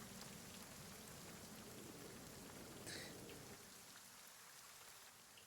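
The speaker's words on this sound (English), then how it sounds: "as the rain calms down a bit" Rain falls steadily in a dense, even patter, fairly faint and distant, easing slightly toward the end.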